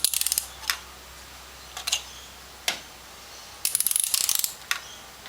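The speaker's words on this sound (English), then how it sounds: "And the torque wrench should click when it reaches the 18 newton meters." Ratchet of a torque wrench tightening a spark plug on a 2001 Honda Civic, heard as short bursts of rapid clicks separated by single sharp clicks and pauses, close and fairly loud with no talking.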